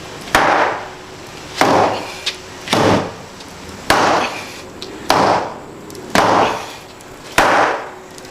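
Hammer strikes driving a nail into a piece of plywood, seven sharp, loud, evenly spaced blows with ringing decay between them, close by with no talk.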